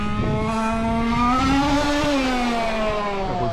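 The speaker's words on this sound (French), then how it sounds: "J'adore le bruit de la voiture." Evo car engine revving hard under acceleration, a loud steady harmonic drone whose pitch climbs and shifts across a few seconds, with no talk over it.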